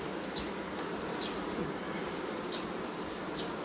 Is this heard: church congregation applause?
no